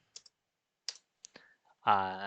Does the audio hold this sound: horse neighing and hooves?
no